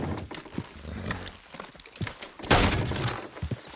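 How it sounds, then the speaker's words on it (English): Several horses pulling a load clop their hooves in an irregular rhythm at close range. A sharp, loud crash or clatter breaks in midway, and the hoof sounds continue afterward. "Watch the horses!"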